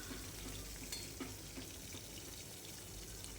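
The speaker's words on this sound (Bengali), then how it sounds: "এটা রুই মাছ ভাজছি," Pieces of rohu fish frying in oil in a pan, giving a soft, even sizzle throughout with occasional faint spatters, fairly quiet and with no voices.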